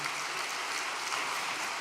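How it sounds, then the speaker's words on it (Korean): An audience applauds to honour a family's blessing at an all-night devotional gathering, a steady, even wash of clapping that fills the whole stretch. "이 가정을 위해서 박수 한번 보내주시기 바랍니다"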